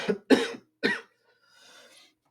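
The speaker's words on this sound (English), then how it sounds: "I don't know how loud that cough came through." Three sharp coughs in quick succession, close and fairly loud, followed by a faint breathy rustle.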